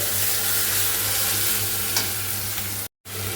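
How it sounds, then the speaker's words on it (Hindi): Onions fry in a pan with black pepper, cloves and green cardamom, a steady close sizzle with light stirring scrapes that cuts off briefly near the end. "इसमें मैंने जो बताया था काली मिर्च, लौंग और छोटी इलायची डाली हूँ, और प्याज भून रही हूँ"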